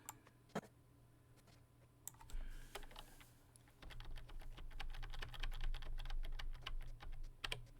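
Keys clatter on a computer keyboard in a quiet room, a few isolated taps at first and then a steady run of fast, dense typing that grows louder toward the end, with no voice over it.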